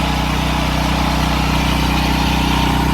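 A Champion CPE 3500-watt portable power generator engine runs steadily at a constant drone, loud and close, with no talk and no change in pitch throughout.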